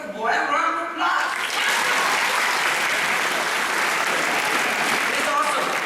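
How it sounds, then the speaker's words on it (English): Audience at a school assembly giving a round of applause, dense sustained clapping from many hands, loud and close, holding steady for several seconds before easing slightly. "Give the boy a round of applause."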